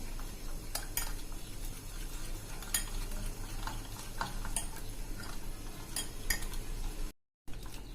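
Dhokli batter with lemon juice being mixed in a bowl, a soft continuous stirring with scattered light clinks of a spoon against the rim, close and quiet, ending in a brief silence.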